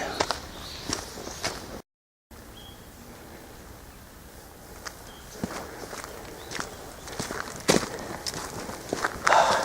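Footsteps crunch steadily along the Ikoma-sanke hiking trail in Japan, close and fairly quiet, with a calm background and no talking.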